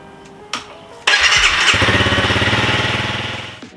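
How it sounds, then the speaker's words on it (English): A Honda CRF300L motorcycle engine cranks briefly, then catches and fires up into a loud, steady rumble, idling with a rhythmic pulse before tapering off slightly. "start up the bike, get the engine warmed up"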